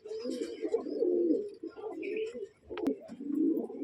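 Dhari pigeons, a female among them, give low, rolling coos in close, repeated phrases with a short flutter-like burst of wing noise partway through.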